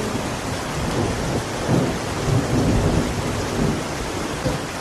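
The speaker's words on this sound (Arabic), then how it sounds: "اسمع البرق." Steady rain pours while low thunder rumbles and swells in the middle, continuous and fairly loud throughout.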